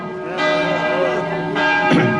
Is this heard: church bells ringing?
yes